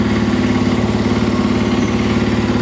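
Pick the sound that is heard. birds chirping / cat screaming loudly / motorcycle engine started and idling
motorcycle engine started and idling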